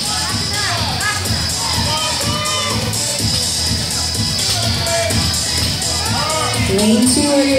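Spectators cheer and shout for athletes at a barbell competition workout, a steady din of voices and whoops that swells near the end, with an announcer talking over it.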